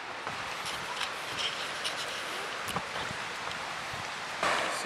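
The Kivach waterfall in Karelia gives a continuous broadband rush heard from a short distance, a steady hiss with faint scattered clicks, no voices.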